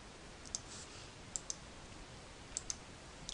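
A computer mouse clicks in several sharp, close single and double presses spaced irregularly over a quiet steady hiss, with no talking.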